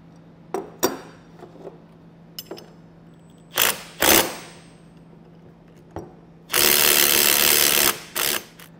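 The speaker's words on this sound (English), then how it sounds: "Put on the new nut here, and we'll tighten it down." Metallic clinks and clanks come from a wrench working a nut on a Blue Ox tow bar. Sharp isolated taps and rattles are separated by quiet gaps, with one longer loud ratcheting burst near the end.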